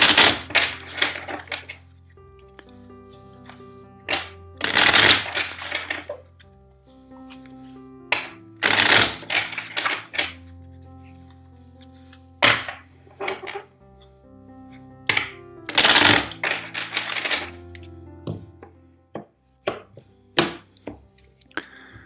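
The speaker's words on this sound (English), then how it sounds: "Let's shuffle four times." A deck of tarot cards being shuffled by hand produces repeated riffling bursts and soft thumps as the cards are knocked together, close and crisp, in irregular clusters with short gaps.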